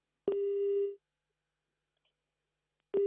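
Telephone busy tone after a call drops: a steady electronic beep of about half a second, a long silence, then the next beep starting, clear and alone with no talk.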